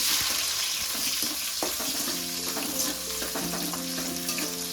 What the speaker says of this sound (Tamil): இப்போ நான் வந்து வெங்காயம் சேர்த்துக்கிறேன்